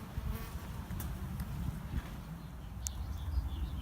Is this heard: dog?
no